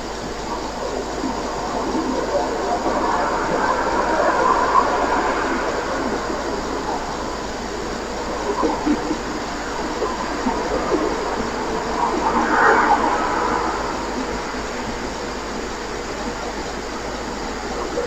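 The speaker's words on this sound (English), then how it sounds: "we should hear the vehicle shortly before on the Linda Lane footage" A vehicle approaches and passes at a distance, heard on security camera footage on Linda Lane, a soft rising and fading road rumble over steady background hum, peaking briefly before trailing off.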